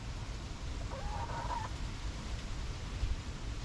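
Backyard hens give a single short cluck partway through, faint against steady low background noise.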